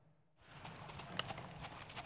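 Horse galloping at speed during yabusame, Japanese horseback archery ridden by women archers: after a brief silence, quick rhythmic hoofbeats come in close and clear, pounding steadily to the end.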